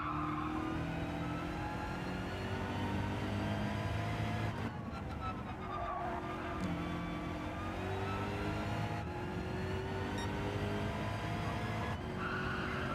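Tyres skid and slide on a BMW in the Gran Turismo 7 racing game, with a steady engine drone running throughout and the squeal continuing under the engine noise, with no voices.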